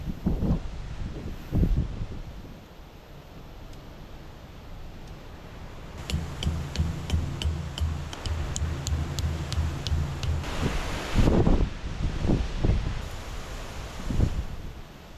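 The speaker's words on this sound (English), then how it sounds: "Well, it was so windy" Gusty wind buffets and roars in bursts on the Cooloola Walk, loud against a rushing background, with a brief stretch of rhythmic tapping in the middle.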